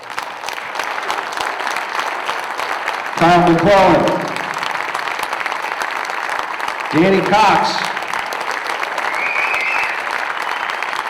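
A crowd at a baseball team's winter caravan event applauds steadily for the pitchers as an announcer twice calls out a name over the clapping.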